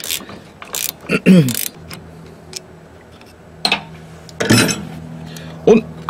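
Wrench work on the front brake caliper bolts of a Renault Twingo, with a 17 mm spanner countering and a 13 mm loosening: sharp metallic clicks and clanks in a few separate bursts over a quiet, faintly humming workshop.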